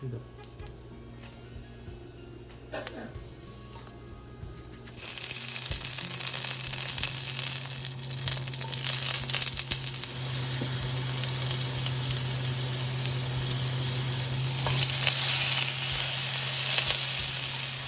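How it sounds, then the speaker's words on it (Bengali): Potatoes sauté in mustard oil with cumin, bay leaf and dried chili in a kadai. The sizzle starts quietly, then bursts into a loud, steady crackling hiss after a few seconds and keeps going with occasional stirring. "তারপর একটা কড়াইতে সর্ষের তেল, জিরে, তেজপাতা আর শুকনো লঙ্কা দিয়ে আলুটাকে সটে করে নেওয়া হলো।"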